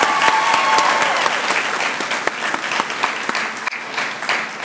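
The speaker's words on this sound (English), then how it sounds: "One more time, round of applause." Loud, sustained applause from a graduation ceremony audience, a dense steady clatter of many hands clapping that fills the whole stretch without pause, with no speech over it.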